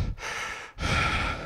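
Two long, heavy breaths close to the mic, a loud rushing exhale followed by a deep intake, with a brief pause between them.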